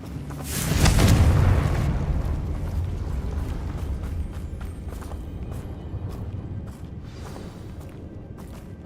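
A Confringo fire spell in Hogwarts Legacy bursts with a loud, deep boom, then a rumbling blast tail fades slowly under faint footsteps.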